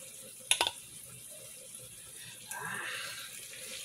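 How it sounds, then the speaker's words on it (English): Tap water pours into a rinsed can, with a couple of sharp metallic clinks early on and then a steady rushing fill that grows louder toward the end. "And then fill it up with water."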